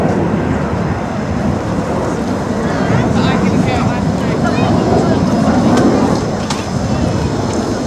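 A de Havilland Vampire jet flying at the Duxford air show, a loud, steady whooshing jet roar with rumbling low end, sustained throughout and close by.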